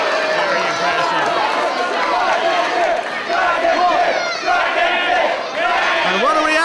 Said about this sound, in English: Crowd showing their appreciation.